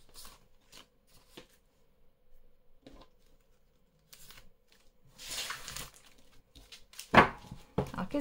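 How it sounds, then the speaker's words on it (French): Tarot cards being shuffled for a nine-card spread give soft, sporadic flicks and taps, then a louder riffling flurry and a few sharp snaps near the end, close and otherwise quiet. "On va faire un tirage en 9 cartes"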